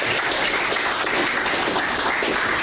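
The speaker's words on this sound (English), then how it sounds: "Let's give TRADEWINDS a round of applause." An outdoor crowd greets the TRADEWINDS airline's first scheduled flight to Virgin Gorda with dense, steady applause that runs for the whole stretch.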